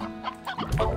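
Chickens clucking in the video game Slime Rancher, a brief burst of several overlapping clucks close up, rising in loudness toward the end with no talk.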